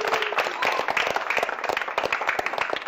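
Children applauding in a classroom, quick uneven hand claps from a small group, fairly close and lively, with a voice rising over the clapping.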